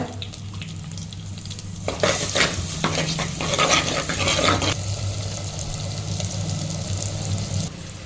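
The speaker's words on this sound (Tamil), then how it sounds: "இப்போ வெங்காயம் தக்காளி பச்சை மிளகாய் நல்லா வதங்கிடுது" Onion, tomato and green chilli sizzle steadily in oil while a utensil stirs and scrapes through the pan for a few seconds in the middle.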